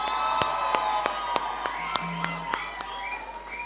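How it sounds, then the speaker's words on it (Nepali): A studio audience claps at a Fewa Idol singing-competition semi-final, with sharp, evenly spaced claps over a background of music and crowd noise. "एकताल श्रीबारीको लागि जोरदार ताली प्लिज हाम्रो तर्फबाट"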